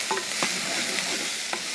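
Diced Fresno chilies, sliced garlic and green cabbage cooking in a pot for coconut clam soup, a soft steady sizzle with a few quick scrapes of stirring over a brief moment.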